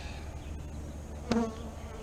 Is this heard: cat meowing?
no